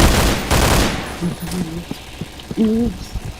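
Gunfire bursts in the video game Point Blank, a dense loud volley at the start that quickly stops, followed by short shouted voices and a few scattered sharper sounds.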